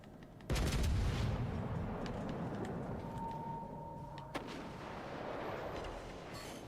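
Warship guns firing in World of Warships: Legends, a sudden heavy boom followed by a long rumbling roar, with a sharp crack partway through and a steady game soundscape underneath.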